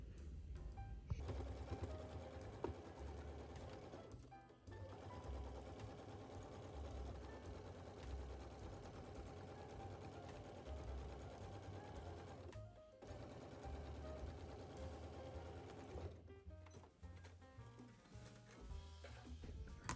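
A sewing machine stitches a bucket hat seam with a half-inch allowance, its motor running in long continuous bursts separated by short pauses, close and steady.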